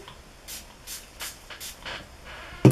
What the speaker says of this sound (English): and then I'm going to spray it one more time